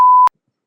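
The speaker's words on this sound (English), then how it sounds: "but I'll have to bleep it out anyways." A single short censor bleep over spoken words on a livestream, a loud, clean steady tone lasting about a quarter second before cutting off to silence.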